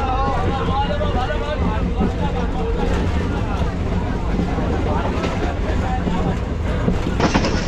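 A Namkhana local train pulling out of Sealdah: a dense, loud rumbling roar with wind buffeting the microphone, and faint murmuring voices mixed into the noise.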